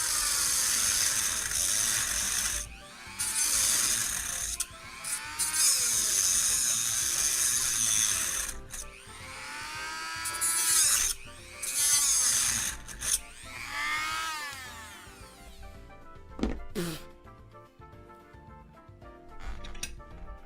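Grinding wheel cutting down a small metal stud from an ultrasonic knife transducer, rising and falling in repeated bursts of harsh high-pitched whine and grinding, with short pauses between passes before it fades out.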